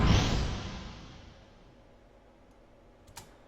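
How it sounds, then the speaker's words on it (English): Magical whooshing effect for a fantasy ice spell: a loud, airy swoosh that swells at once and then slowly fades into a long hissing tail, with a faint tick near the end. "we have this magical whooshing sound"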